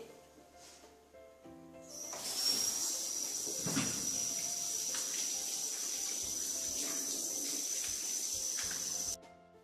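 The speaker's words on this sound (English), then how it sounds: "The first step is you have to wash the apples before cutting it to remove the dirt." Apples being washed under a running kitchen tap: water starts gushing about two seconds in, pours steadily and loudly close by, then stops near the end, with faint background tones and no speech.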